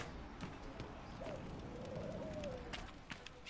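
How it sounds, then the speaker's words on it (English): A dove coos softly in Dragon Age: Inquisition, a low, drawn-out call rising twice against steady outdoor game ambience, faint and somewhat distant, with no talking. "Or a dove, probably a dove."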